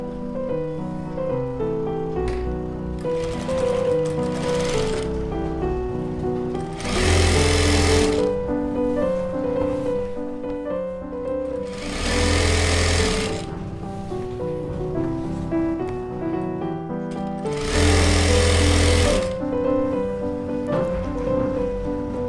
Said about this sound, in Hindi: दोनों पार्ट्स को साइड से हम सिलाई लगा लेंगे।